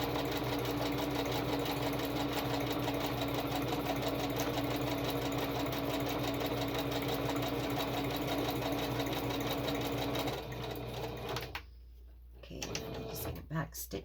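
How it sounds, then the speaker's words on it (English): A sewing machine stitches pattern paper for a journal, running in a steady fast whirring rattle for about ten seconds, then slowing and stopping with a few short bursts at the end. "tend to have to do an extra stitch a lot when I'm sewing"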